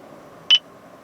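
A single short electronic beep sounds inside a 2011 Lexus CT 200h hybrid after its voice button is pressed, a brief clear tone over a quiet cabin hum.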